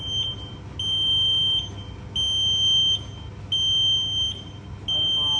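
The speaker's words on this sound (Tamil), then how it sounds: "ஒரு நிமிஷம் வச்சு அலாரம் ஆகிடுச்சு" A high electronic timer alarm on a diesel rotary rack bread oven beeps in long, evenly spaced pulses over a low mechanical hum, loud and close.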